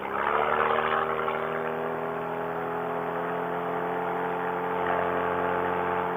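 A SKYMAX paramotor engine runs steadily at high power, a continuous loud whirring drone with strong harmonic tones holding near full throttle, swelling slightly at the start and again near the end, with no voices.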